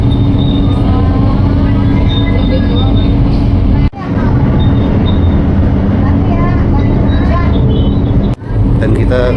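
Interior of an LRT Jabodebek light rail train in motion, a loud steady low rumble with whining tones and a couple of brief dropouts, voices talking over it.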